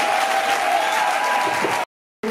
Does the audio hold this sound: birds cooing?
no